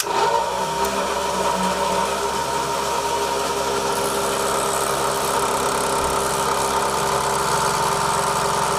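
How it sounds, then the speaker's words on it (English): A solar-powered pounding machine runs steadily with a continuous mechanical hum and drone, loud and unbroken throughout with no talking. "with a solar panel and your machine, one can achieve pounding with less stress"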